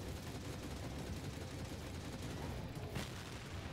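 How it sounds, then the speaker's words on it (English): Continuous gunfire in the Gungrave VR video game on PSVR, a dense steady barrage of shots with no pause. "I'm just firing bullets down there"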